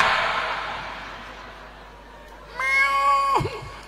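A man imitates a cat with a drawn-out nasal meow near the end, coming after a stretch of loud, close crowd-like noise.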